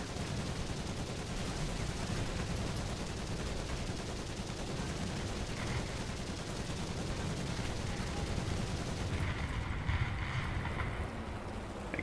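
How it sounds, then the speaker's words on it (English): Dense, continuous rattle of tank machine gun fire in War Thunder, likely from a Churchill Mk VII, a steady close chatter over engine rumble with no talking. "I keep machine gunning."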